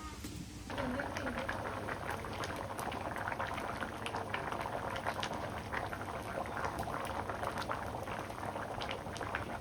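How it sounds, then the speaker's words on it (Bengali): Ginger and lentils boil hard in a pot over a village cooking fire, a steady close bubbling and popping that runs unbroken throughout, with faint hiss behind it. "কালাই দিয়ে আদা সেদ্ধ হচ্ছে"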